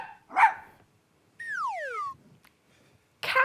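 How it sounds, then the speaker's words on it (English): A dog gives a short sharp bark, followed by a high rising-and-falling whine and another bark cut off at the end, all close and clear against silence. "Dogs make the sound ruff, ruff."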